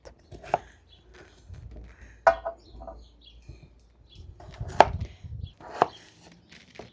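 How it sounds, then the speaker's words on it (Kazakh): A knife chops cleaned, marinated lamb intestines into small pieces on a board, a series of sharp, irregular thwacks close by with quiet gaps between them and faint background noise. "Енді бұны ұсақ-ұсақ, шамал-шамал қылып турап қуырамыз."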